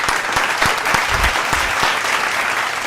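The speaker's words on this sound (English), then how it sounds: "Hand clap for him." A podcast studio crowd gives a hand clap for a guest; loud, close applause with a few sharp individual claps and some low thumps, continuing steadily without speech.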